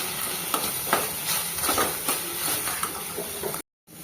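Onion and chopped tomato fry in a pan while being stirred for a chicken roll filling, a steady close sizzle with soft stirring scrapes that cuts off abruptly near the end.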